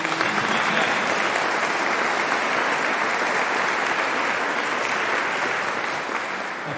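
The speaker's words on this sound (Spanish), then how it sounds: "Un fuerte aplauso para ellos." A crowd at a parish anniversary launch event applauds the presenters with dense, sustained clapping that stays even throughout and tapers slightly at the close.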